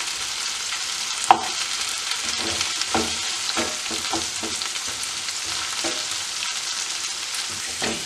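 Okra sautéing in hot oil in a pan for vendakkai paal curry, a steady close sizzle and crackle with occasional clinks and scrapes of a spoon stirring through it.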